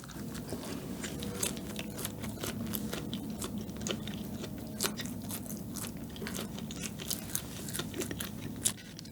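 Corn bread from an old Busan bakery is chewed close to the mic, giving steady soft crunching and sticky mastication with sharp little crackles scattered throughout, and no talking.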